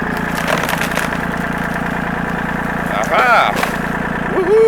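A tractor engine runs steadily in first gear with a continuous low rumble throughout, while someone talks over it partway through.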